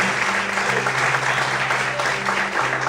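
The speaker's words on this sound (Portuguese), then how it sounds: "Você pode glorificar a Deus enquanto você aplaude?" A church congregation claps loudly and continuously throughout, a dense wash of applause with faint voices and sustained tones beneath it.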